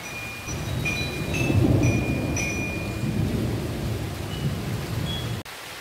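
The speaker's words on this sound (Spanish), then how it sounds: "Y cómo cae la tormenta, amigos." A mountain thunderstorm brings steady, close heavy rain hissing on surfaces, with low rolling thunder swelling and fading beneath the downpour and no one speaking.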